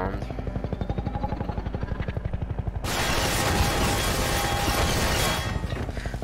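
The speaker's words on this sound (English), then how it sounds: "We have to make it through this place while helicopters firing at you." Helicopter gunfire in the Half-Life 2 video game, a steady chopping, pulsing drone that bursts into a loud, dense rattle of rapid fire midway and keeps going to the end.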